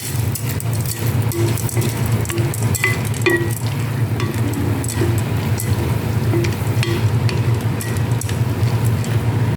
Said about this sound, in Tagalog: Ihulog na natin yung ating macaroni. Igigisa po natin.